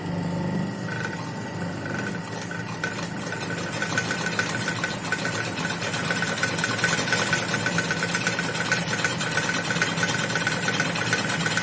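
A sewing machine stitches a scalloping and zigzag pattern, its motor running with a steady fast mechanical chatter throughout, close and constant.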